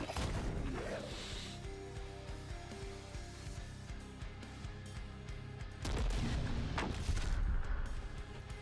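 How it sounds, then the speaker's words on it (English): Mortar fire in The Last Spell, a dark fantasy strategy game: heavy booms and blasts pound steadily over a dense, noisy background of battle sounds, with a louder burst of explosions late in the clip. "Mortar's doing some work"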